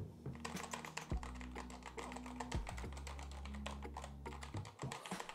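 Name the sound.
typing on a white mechanical keyboard with red switches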